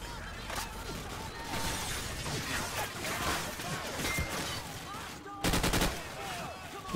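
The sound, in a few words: heavy gunfire in video game Call of Duty 4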